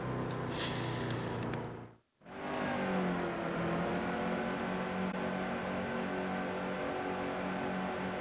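A NASCAR stock car engine in the racing game NASCAR Heat 2 roars loudly and steadily, drops out sharply for an upshift, then climbs back to a sustained high drone.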